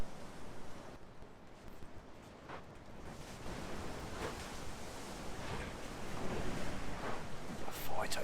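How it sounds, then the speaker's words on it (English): Strong wind gusting outdoors in a broadband, steady roar that builds louder toward the end, buffeting the microphone with low rumble and no other clear sounds. "It's windy."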